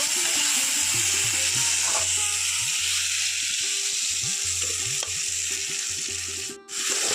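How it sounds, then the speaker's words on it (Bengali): Potatoes for a Bengali raw-banana veg curry fry in spice masala with a loud, continuous sizzle, broken by repeated stirring and scraping in the pan; faint music runs underneath. "আলুটাকে একটু ভালো করে আমি এখানে কষিয়ে নেব"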